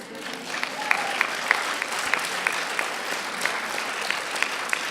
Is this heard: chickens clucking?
no